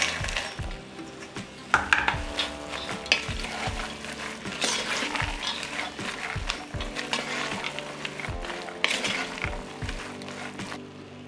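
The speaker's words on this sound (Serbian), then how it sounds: "Kada sam sve propražila, dodajem pasulj." Beans are tipped into a pot of fried bacon and a chicken drumstick, then stirred. The sizzle runs steadily under repeated wooden scraping and knocks against the pot, close by, with no talking.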